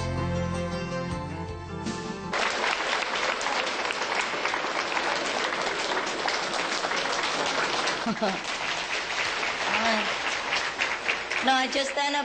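An audience bursts into sustained applause, many hands clapping densely and loudly after a short stretch of music, with a voice briefly heard near the end.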